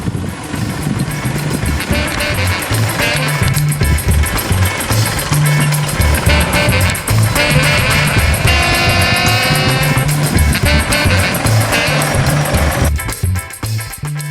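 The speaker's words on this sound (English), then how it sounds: "Shift to low range, first gear, and this V-Cross just crawls down the slopes." An Isuzu D-Max V-Cross 4x4 pickup crawls down an off-road slope in low range first gear, its engine a loud, steady, rumbling drone with rattling and knocks over uneven ground.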